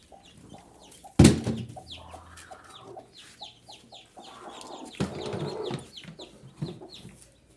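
A native country hen clucks low and repeatedly while newly hatched chicks peep in high, rapid chirps, close by, with a sharp knock early on and some rustling movement.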